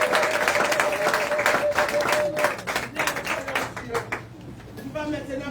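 Church congregation applauding to acclaim Jesus, dense rhythmic clapping from a crowd with voices mixed in, tapering off near the end.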